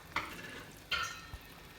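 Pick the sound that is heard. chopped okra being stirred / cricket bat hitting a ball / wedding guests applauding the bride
chopped okra being stirred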